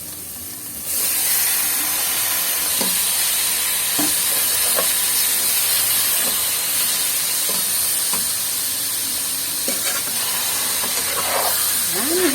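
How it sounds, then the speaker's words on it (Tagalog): Pork meat sautéing in a pan for dinuguan, a steady loud sizzle and hiss with repeated scraping stirs and occasional clinks, a voice faintly heard over it. "isusunod po natin sa paggisa ang ating pork laman"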